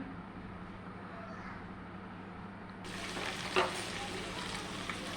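Moong dal with mixed vegetables fries in a pan with a steady sizzle that jumps louder partway through, with occasional scrapes and clinks from stirring.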